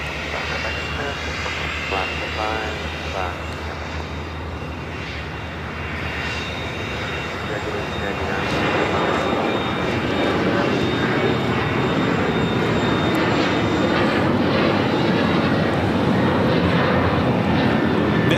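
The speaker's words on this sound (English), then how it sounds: "This is American Airlines 1899 taking off to Indianapolis on the 737-800, the One World livery." An American Airlines Boeing 737-800 in oneworld livery takes off from LAX, its jet roar building steadily into a loud, sustained broadband rush, with faint voices underneath.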